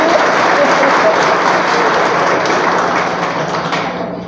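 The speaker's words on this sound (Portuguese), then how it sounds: "Vamos dar uma salva de palmas, né?" Church congregation applauding at a Catholic Mass, a dense, steady wash of clapping that fills the whole stretch and tapers slightly at the end.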